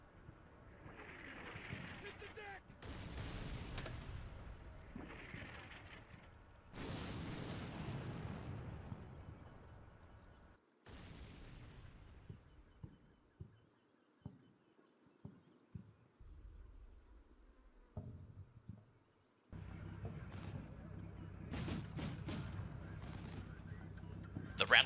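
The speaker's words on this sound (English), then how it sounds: "the fire from the Russian position intensifies. When combined with the artillery coverage, the defenders are practically pinned down" Gunfire and artillery from a Russian position pinning down defenders in the wargame Combat Mission Black Sea, with heavy booms and rolling bursts of shooting coming in irregular waves, loud and close at times, with short, sharp shots between them.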